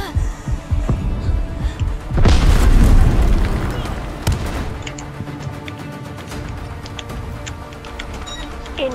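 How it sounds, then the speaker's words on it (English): Artillery shells explode in the Delta Force video game during a large-scale battle, with a heavy boom bursting near the two-second mark and rumbling for several seconds, then a second thud, over continuous battlefield noise. "Incoming artillery."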